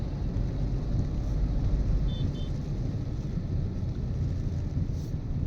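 A car driving through heavy traffic on a rainy road in Pune, heard from inside as a steady low engine and road rumble with wind noise, continuous and fairly loud.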